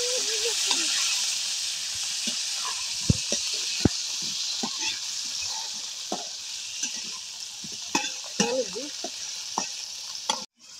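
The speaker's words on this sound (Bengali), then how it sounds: "তো এই আলুটা আগে ভাজা নিব" New potatoes fry in a pan with a constant close hiss and sizzle, broken by scraping stirs and a few sharp knocks of the utensil against the pan.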